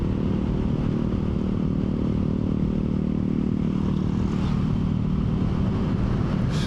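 A Yamaha Mio i125 scooter being ridden gives a steady, loud engine drone mixed with wind rush, holding constant throughout with no talk.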